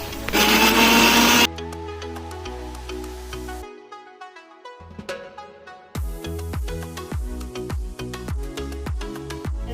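A kitchen blender grinding one tomato and green chilli into a paste, a loud whirring burst for about a second and a half before it cuts off, followed by quieter music-like tones.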